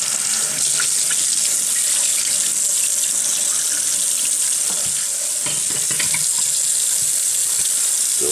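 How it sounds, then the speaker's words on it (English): A kitchen tap runs hard into a sink during conch cleaning, a loud, continuous rushing splash of water that holds steady for several seconds with no voices over it. "Fill it back up with water."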